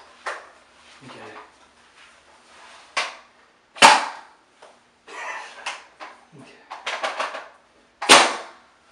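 A handheld marshmallow gun fires several times: sharp, close puffing pops spaced a few seconds apart, with faint voices and small handling noises in between.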